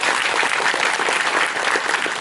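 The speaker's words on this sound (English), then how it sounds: "round of applause for this man" An audience at the Lighthouse Cinema in Dublin gives a round of applause during a Q&A with Greg Sestero, dense and continuous clapping filling the room with no talking.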